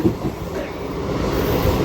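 A DEMU train rolls steadily into Siddipet station, its rumbling rail and wheel noise building slightly louder over the short stretch with no talking.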